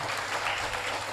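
Applause from an audience at a church youth competition opening in Timika, a steady, dense wash of clapping held evenly throughout, moderately loud without distinct individual claps.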